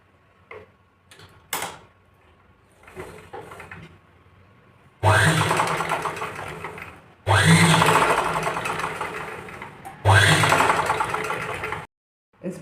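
A sewing machine stitches a blouse katori in three loud, close bursts of a few seconds each, starting and stopping abruptly with quieter handling noises in between.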